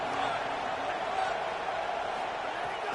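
A Texas A&M stadium crowd roars on third down as a constant, loud wash of noise beneath a commentator's voice.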